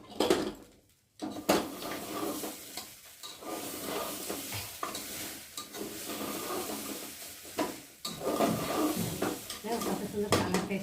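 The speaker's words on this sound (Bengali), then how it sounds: "তো চলো একটু ভালো করে নেড়ে দিই" Khichuri gets stirred in a pan, a soft sizzle under repeated scraping and clinks of a spoon against the metal, fairly quiet and close.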